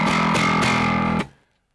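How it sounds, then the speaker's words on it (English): A BitFuzzer fuzz distortion plugin pushes a sustained tone into a thick, nasty, heavily saturated buzz, with two re-struck attacks before it cuts off abruptly and leaves silence. "we'll go for like a classic kind of massive fuzz tone that's a bit nasty"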